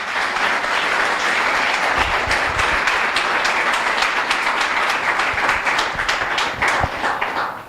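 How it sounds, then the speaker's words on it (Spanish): A church congregation applauding during a sermon, loud, continuous clapping from many hands throughout, with individual claps standing out near the end. "Aplauda al Señor."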